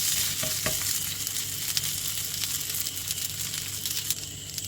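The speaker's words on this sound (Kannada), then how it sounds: "ಒಂದು ಅರ್ಧ ಸ್ಪೂನಷ್ಟು ತುಪ್ಪ ಹಾಕ್ಕೊಂಡು ಒಂದು ಕಡೆ ಬೇಯಿಸಿದ ನಂತರ ತಿರುಗಿಸಿ ಹಾಕಿ" Sweet corn dosa frying in ghee on a pan gives a steady, close sizzle and crackle that holds throughout, with a few soft scraping touches and no voices.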